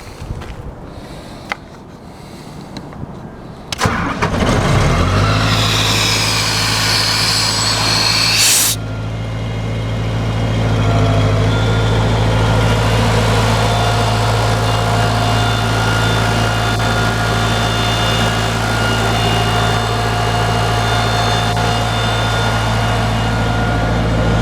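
A Sullair 185H air compressor with a John Deere 4.5 liter diesel fires up after a few seconds of quiet clatter, then settles into a loud, steady, close diesel drone with a deep low rumble that holds throughout.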